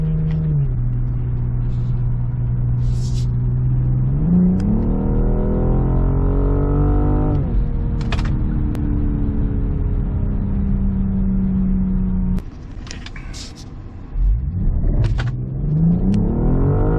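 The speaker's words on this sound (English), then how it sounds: "So let's try to see what kind of 0 to 60 time we can get in this." A 2021 BMW M440i xDrive accelerating hard from a standstill to 60 mph, its engine loud and close, climbing steadily in pitch through each gear with brief dips at the shifts, heard from inside the car.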